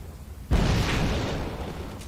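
Grenade exploding in the Fable 3 video game, a sudden loud boom after a brief quiet stretch, followed by a rumbling roar that fades slowly.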